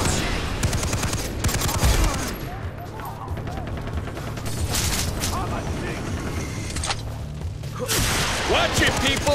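Bursts of rapid gunfire in Far Cry 3, loud volleys at the start and again near the end with quieter shots between, while voices shout over the action.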